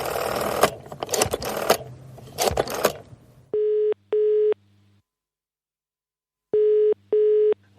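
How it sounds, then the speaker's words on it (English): A UK-style telephone busy signal beeps in clean paired tones, two short pulses, a pause, then two more, coming after a stretch of noisy clattering handling sounds. "Why does it sound like I'm using a phone in the UK?"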